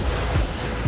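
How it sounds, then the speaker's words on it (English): Strong wind gusting across the microphone at Tinley Manor beach, with a constant roar and the wash of surf underneath. "It's a little bit too windy here today, as you can hear."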